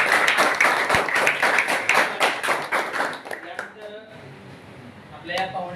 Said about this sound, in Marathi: मी यांच्यासाठी जोरदार टाळ्या.